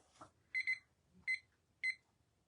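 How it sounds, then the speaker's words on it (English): An electronic alarm beeps in short bursts, a quick double beep followed by two single beeps, fairly faint in a quiet room. "And the alarm is about to go off. There it is."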